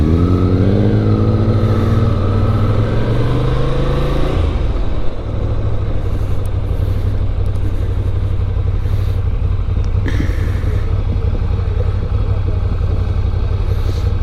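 A 2023 Ducati Scrambler Icon Dark being ridden: a loud, steady engine drone close by, with a rising rev in the first seconds that drops off, then a constant rumble and wind noise, no talking.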